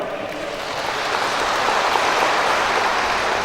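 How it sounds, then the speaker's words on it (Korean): An audience applauds three candidates at a party convention choosing its North Jeolla governor nominee in a university gymnasium, producing a dense, sustained wash of clapping that swells slightly and stays loud, with no talk over it. "세 분 후보님께 우리 모두 커다란 격려의 박수를 부탁드립니다."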